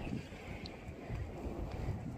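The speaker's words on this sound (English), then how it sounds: "Even with the sun out, the wind is just howling" Cold wind blows outdoors on a coastal island shoreline, making a low, steady rumbling buffet against the microphone, fairly quiet and continuous with no talking.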